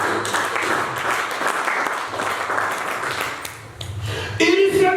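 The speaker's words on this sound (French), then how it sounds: "Acclame Jésus, acclame le Seigneur" A church congregation at a prophetic blessing service claps and cheers, with steady loud applause and mixed voices calling out, swelling again near the end.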